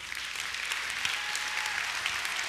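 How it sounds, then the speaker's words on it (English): A church congregation applauds an event team in a steady, dense round of clapping that holds evenly from start to finish with no voices over it. "let's give them another round of applause."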